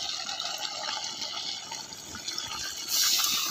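Water is poured into a cooking pot while a village-style meat masala curry is made, a continuous splashing fill that grows louder and brighter near the end, with no talking.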